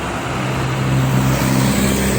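A heavily loaded truck rolls along the Jakarta-Cikampek toll road, a loud, steady engine drone with a low hum that swells slightly as it passes close by.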